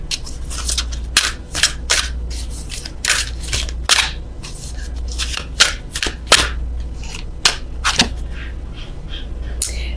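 Tarot cards shuffled and drawn from a deck, a run of sharp papery slaps and riffles, close and fairly loud over a steady low hum, with no talking.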